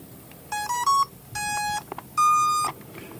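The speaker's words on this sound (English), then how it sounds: "that's the sound we normally get from the ESC" A quadcopter's electronic speed controllers emit startup tones on a new box quad build: three loud, close bursts of high pitched beeps in rising and falling tone patterns, separated by short pauses, with no speech.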